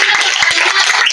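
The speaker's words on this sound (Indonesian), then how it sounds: "Beri tepuk tangan untuk Tiara ya." A classroom of students claps for a classmate, a dense, loud burst of many hands applauding together that lasts about a second.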